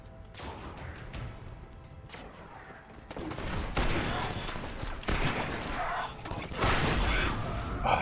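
Shotgun fire in the Destiny video game, in quieter scattered shots at first and then heavier, louder blasts after about three seconds, with mechanical clatter between them and a busy game mix behind.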